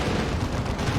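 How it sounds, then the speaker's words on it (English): Lascannon fire in the Warhammer 40k game Dawn of War 2, a dense, loud burst of rumbling booms and blasts packed into a single second of battle noise. "Melter Bomb is going to take las cannon shots as well."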